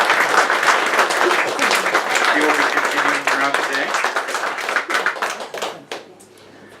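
An audience gives dense, sustained hand-clapping for a musician, the applause thinning and tapering off into scattered claps while someone speaks over it.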